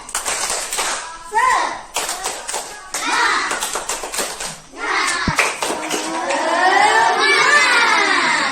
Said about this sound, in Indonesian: supaya kita tidak ngantuk, kita tepuk semangat dulu